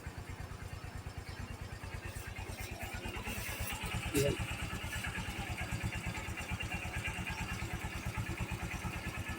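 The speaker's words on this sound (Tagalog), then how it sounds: "painit mo na yung motor" A motorcycle engine idles while warming up after sitting unused for days, a rapid, even putter close by that briefly revs a little louder; a voice speaks once over it.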